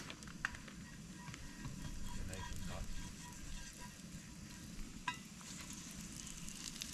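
Cookie dough frying in a pan greased with tallow at an outdoor bushcraft camp, giving a faint, steady crackling sizzle with a few sharper pops.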